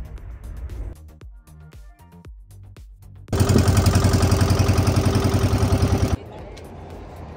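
A loud, steady motorboat engine drone with a rapid rhythmic chug runs for about three seconds near Bacoor, Cavite, set between quieter stretches of low background rumble and knocking.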